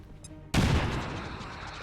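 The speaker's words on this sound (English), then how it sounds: "Go ahead and soften you up with a frag." A frag grenade explodes in XCOM 2: one sudden, loud, close blast that breaks out of quiet and fades into a long rumbling tail.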